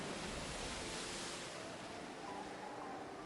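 Ocean waves crashing in the Umineko visual novel game make a dense, steady roar of surf and spray that holds evenly throughout, with no talking.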